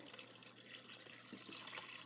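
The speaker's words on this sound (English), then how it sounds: "I'm going to add a little water" Water is poured into a pan of sautéed diced onion and chopped chicken for a tofu spinach soup. A faint, steady trickle and splash continues for about two seconds.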